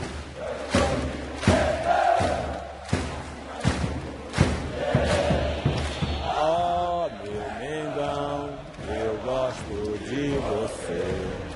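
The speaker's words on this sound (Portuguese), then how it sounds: "A torcida então cantou como nunca." Flamengo supporters in their home stadium during a match against São Paulo, starting with heavy thuds and crowd noise that give way to loud, sustained massed chanting voices.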